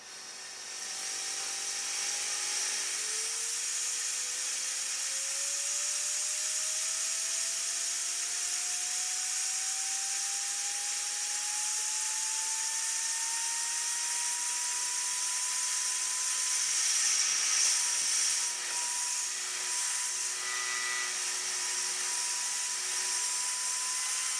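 A BilletSPIN Xeno BCA spinner whirs steadily at high RPM after running at about 3,200 RPM. Its thin whine climbs gradually in pitch as the speed is cranked up, close and continuous, with no talking.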